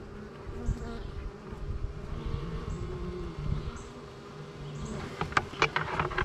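Honey bees drawing out comb inside a nuc hive give a steady, close, dense buzz that holds throughout, with a few brief clicks and knocks near the end.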